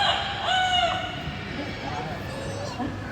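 An Amazon parrot at a Singapore bird show imitates a rooster's crow, a short rising-and-falling call heard once up close over crowd murmur and background chatter.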